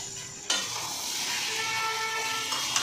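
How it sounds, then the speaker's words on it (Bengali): Chow mein stir-fries in a wok, a steady, loud sizzle that jumps in suddenly and holds with a hissing, crackling texture, with a faint scrape near the end. "চাউমিনটা ভাজা হতে হতো"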